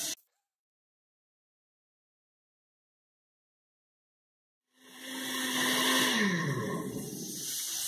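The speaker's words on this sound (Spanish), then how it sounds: "vamos a licuar todos nuestros ingredientes" A blender whirs through tomato-and-chili salsa ingredients for Oaxacan tamales, starting abruptly after a short click and silence, then running loud and steady with a dropping pitch as the load thickens.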